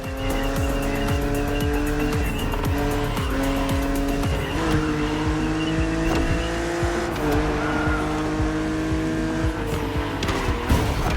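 A BMW Z roadster racing in The Crew Motorfest, its engine holding a steady loud drone with gear shifts and rising revs, and tyres squealing now and then, with no talk.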